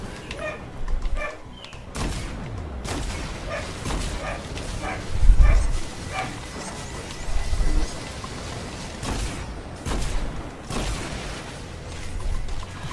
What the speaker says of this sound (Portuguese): O engraçado é que começa a gravar, começa o cachorro a fazer barulho